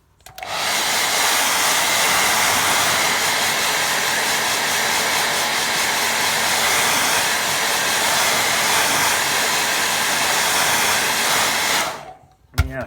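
Hair dryer blowing steadily on a watercolour painting, a loud continuous whooshing roar held close for about eleven seconds before it is switched off.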